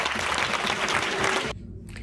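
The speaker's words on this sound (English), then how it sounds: "It was like a huge applause at the end." A short burst of audience applause and cheering fills a room after an Edinburgh Fringe comedy set. The clapping is dense and loud, then cuts off abruptly into quiet murmuring.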